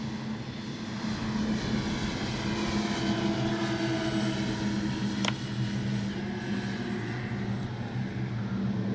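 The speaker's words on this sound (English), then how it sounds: "Boy, that is a beautiful plane coming at us there." A radio-controlled B-25J model bomber drones past with a steady, loud engine hum that holds level throughout, one brief sharp tick near the middle and no talking.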